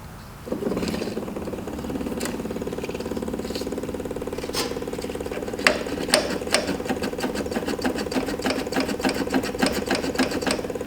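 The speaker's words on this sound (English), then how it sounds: "So I'm gonna go ahead and hook the pump up, let it fill the carburetor up." An electric fuel pump fills the carburetor of a 1973 VW Beetle, starting abruptly and settling into a rapid, even mechanical ticking buzz, close and steady, with a few sharper clicks and no talk.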